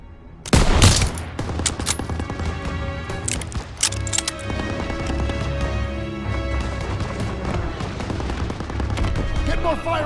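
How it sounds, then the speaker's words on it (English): Sustained gunfire and bursts from a World War II battle in the video game Call of Duty: WWII, loud and continuous with heavy low rumble, mixed under shouted voices and game music. "They're taking fire from behind!"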